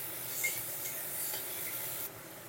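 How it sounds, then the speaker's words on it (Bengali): Tomatoes and salt are stirred in a pan, giving a soft, steady scraping and rubbing with a faint sizzle underneath. The sound drops a little near the end, and no one speaks. "আবারও একটু নেড়ে নেব"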